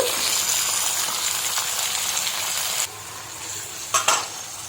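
Chopped tomatoes fry in a pan for a prawn roast, a steady close sizzle with stirring; the hiss drops sharply partway through, followed by a couple of brief utensil clicks.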